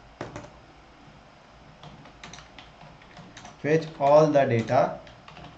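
Keys clack on a computer keyboard while an SQL query is typed, scattered taps running through the first few seconds before someone speaks over the end.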